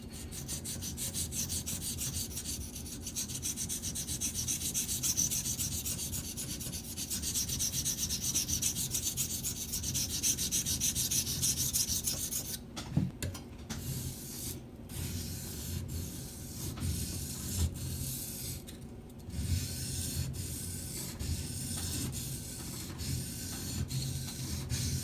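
A Benchmade 970S Emerson Spec War CQC7 knife with a slightly recurved edge is drawn along a sharpening stone in continuous, close rasping strokes that run steadily for the whole stretch, with brief pauses and taps midway.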